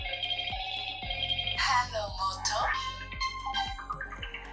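An Android phone rings in response to a Google Find My Device play-sound command, a melodic electronic ringtone with a steady rhythmic beat, loud and close.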